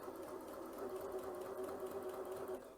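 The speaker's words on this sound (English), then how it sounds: "I'm just going to sew just a regular straight stitch." A Janome C30 sewing machine running a regular straight stitch, a steady fast whirring hum with a constant mechanical pitch, close and continuous with no talking.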